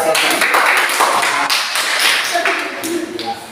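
Schoolchildren in an Indonesian classroom clap their hands in a dense, steady burst of applause. It lasts the whole moment, loud and close, with a few voices mixed in.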